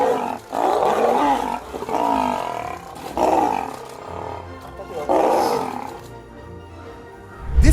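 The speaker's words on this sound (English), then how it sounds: "Battle among lionesses to find the real queen of the jungle." Lionesses fighting in the African wild give repeated deep roars and growls in several loud surges, with a voice talking over them throughout.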